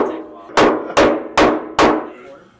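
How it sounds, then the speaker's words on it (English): Four sharp hammer blows knock at the bung of a bourbon barrel during a distillery barrel pick, evenly spaced and loud with ringing decay, each striking the wooden cask close by. "it's called a bung, and yes, you're hammering out of the bung hole"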